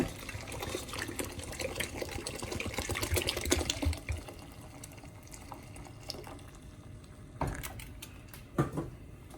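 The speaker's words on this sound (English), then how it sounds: "we're going to add water" Water gushes and splashes steadily into a soup pot, a dense rushing pour that thins out toward the end with a couple of brief sloshes.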